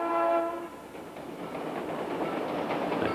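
A Central Vermont Railway passenger train rolls by loudly, its horn sounding with strong steady tones at the start before giving way to continuous rumbling wheel and car noise.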